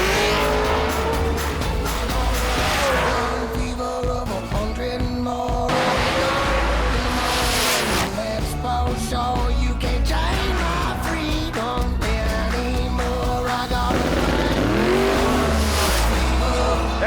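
Race cars at a dragstrip during a racing event, loud continuous engine roar with revving and tire noise throughout, plus some crowd and background din.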